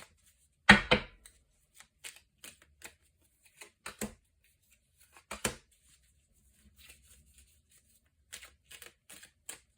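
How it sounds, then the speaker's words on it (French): Tarot cards being shuffled by hand: one sharp riffle burst near the start, then a series of soft, brief card taps and slides spaced irregularly, close and fairly quiet with no talk. "je rebrasse les cartes"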